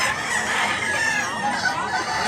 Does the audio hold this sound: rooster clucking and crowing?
yes